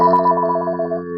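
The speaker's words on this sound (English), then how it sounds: "I'll wait till this phone stops ringing." An office telephone keeps ringing with a loud, steady electronic trill pulsing rapidly through the whole short stretch, close by and alone with no voices.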